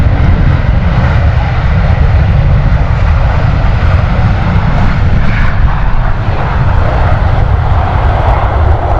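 A jet airliner, a Boeing 737 on short final into Stansted Airport, gives a loud, steady engine roar that holds at an even level throughout, with no voices.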